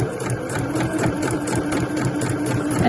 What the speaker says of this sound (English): I'm just keeping my eye here just to check that I'm sewing nicely on the edge there.